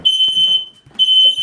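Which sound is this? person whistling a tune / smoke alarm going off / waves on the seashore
smoke alarm going off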